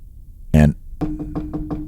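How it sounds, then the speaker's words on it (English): Knocking on a door, a loud burst at first, then a quick series of about five raps spaced evenly, close and distinct with no talk. "knocking at the door"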